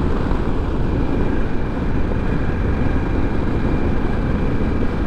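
A 2021 Harley-Davidson Pan America Special 1250 motorcycle at steady highway speed, its engine a low continuous drone buried in heavy wind roar with no talk.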